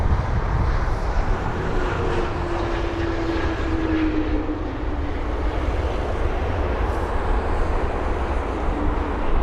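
A United Boeing 777-200ER airliner arriving at London Heathrow, its engines giving a loud, steady roar that fills the air throughout, with a faint whine gliding through the middle.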